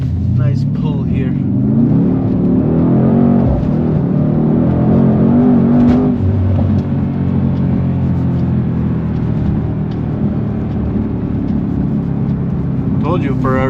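A 2019 Mercedes-Benz C63s pulling hard under acceleration, its deep engine note rising through the revs from inside the cabin, with someone talking over the steady rumble.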